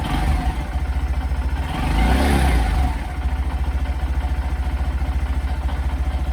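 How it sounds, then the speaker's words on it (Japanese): A Honda Monkey 125 motorcycle engine idles at about 1500 rpm with a steady, rapid pulsing thud, briefly revving higher midway before settling back to its even idle. "純正のアイドリングはあれですね、"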